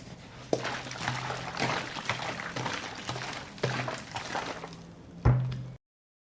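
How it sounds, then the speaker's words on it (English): Homemade liquid fertilizer made with wood ash is poured around plant roots, soft splashing and trickling in short bursts with a few thuds, faint and close, ending in silence. "I water around the roots once every 15 days."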